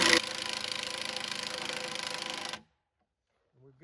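A power driver spins small construction screws into wood with a loud, steady motor whir lasting a couple of seconds before stopping abruptly, followed by silence and then a faint voice.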